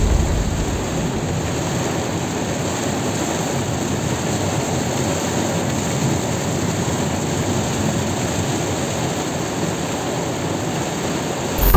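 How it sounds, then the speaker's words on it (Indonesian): Heavy rain and wind roaring steadily inside a Mitsubishi Xpander car, a dense continuous wash of drumming on the body with no speech. "kemarin gue bawa mobil ini nih, lagi hujan banget nih gue rekam kayak gini nih suaranya nih"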